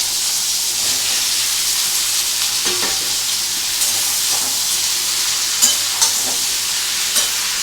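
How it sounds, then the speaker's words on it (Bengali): Sliced ridge gourd sizzles steadily in a pan with tomatoes while being stirred, with scrapes and clinks from the spoon breaking through the close, continuous hiss. "দেখো এইটা একটু আমাকে এখন নাড়াচাড়া করতে হবে"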